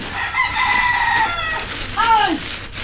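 A rooster crows twice up close, first a long drawn-out call and then a shorter rising-and-falling one, loud and clear over quiet rural background.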